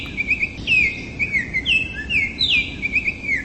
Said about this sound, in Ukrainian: Послухайте спів пташки.